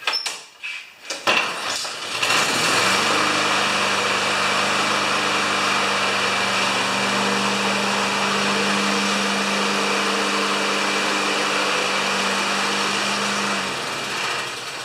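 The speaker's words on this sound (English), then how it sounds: "Now I'm going to go see if she runs." A Honda lawn mower engine, repaired after a broken starter rope, catches after a couple of brief rattles and then runs steadily and loudly at a constant, humming idle, easing slightly near the end.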